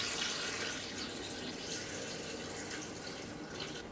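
Four cups of water pour into a blender over soaked almonds, a steady close splashing and trickling stream that runs evenly throughout with no talking.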